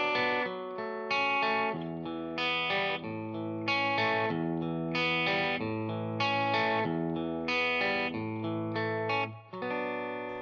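An electric guitar played in a blues-soul style picks broken chord shapes in a steady, rhythmic arpeggio pattern, with effects-laden tone and clear, close sustained notes over about ten seconds.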